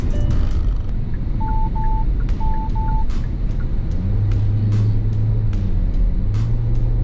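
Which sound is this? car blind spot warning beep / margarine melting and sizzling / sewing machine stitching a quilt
car blind spot warning beep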